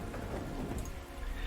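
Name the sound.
rain in the video game Panzer Corps 2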